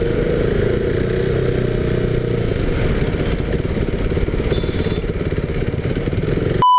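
A KTM RC390 motorcycle fitted with a Powertronics performance ECU runs while being ridden, its engine droning steadily and close, the pitch easing as it accelerates and decelerates gradually.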